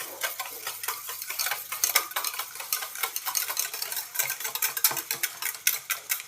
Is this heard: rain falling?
no